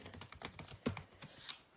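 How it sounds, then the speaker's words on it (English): Soft, quick clicks of a computer keyboard being typed on, uneven in rhythm and fairly faint in a quiet room. "I'm typing on my computer here."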